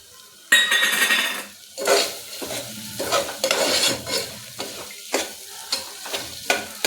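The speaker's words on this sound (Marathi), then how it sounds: "चणा डाळ टोमॅटोमध्ये चांगली मिक्स करून घ्यायची" Chana dal is stirred into tomatoes in a pan, with bursts of scraping and clanking metal spoon strokes against the pan over a light sizzle, coming in an uneven rhythm with short pauses.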